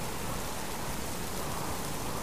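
Rain falls steadily as a dense, even hiss with no gaps and no voices.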